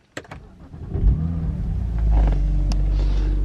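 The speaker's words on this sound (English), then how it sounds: "if we go ahead and turn the engine on" A BMW 1 Series engine cranks and catches, rising from a short starter whir into a steady, loud idle rumble close by, with a couple of sharp clicks along the way.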